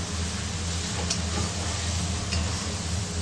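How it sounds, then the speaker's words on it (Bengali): Egg chilli is fried and stirred in oil, producing a continuous close sizzle with soft stirring scrapes and a couple of faint clicks, with no talk. "তেল ছেড়েছে কিন্তু আর একটু ভাজা হবে, আর একটু ভাজলে ভালো লাগবে"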